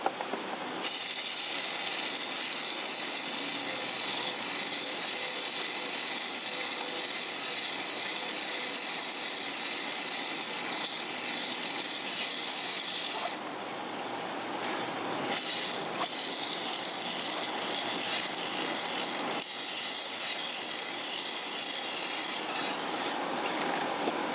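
A bicycle chain spins through the drivetrain while lube is applied, giving a steady loud rasping whir with brief pauses and restarts, no voices.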